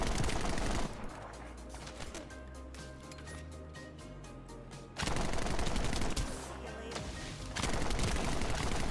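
Rapid automatic gunfire from the Fallen Hope weapon in The First Descendant, loud dense bursts that stop partway through while game music carries on, then resume.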